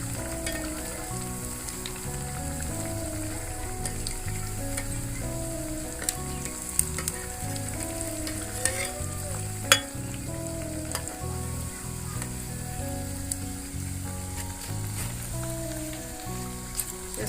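Sweet mathri frying in oil over a low flame, a continuous soft crackling sizzle with occasional small pops and clinks throughout, steady and close with no talking.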